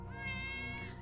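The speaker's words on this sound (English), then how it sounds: "I'll give you a free meow, hang on." A cat meow alert plays on a game dev stream, one clear drawn-out meow with a rising and falling pitch, heard alone.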